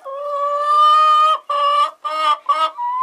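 Hens clucking in a flock, a close, loud run of drawn-out, tonal squawking calls followed by three shorter, broken clucks with brief gaps, and no talking.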